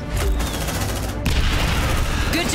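A grenade blast and gunfire in the squad game Aliens: Dark Descent, loud and dense, with a heavy rolling barrage that surges again midway, packed with rapid shots and booms and no pause.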